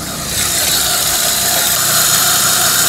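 A car engine cranks on a weak battery, its engine management unit unplugged so it cannot start. A loud, close, steady mechanical churning runs without pause and never catches.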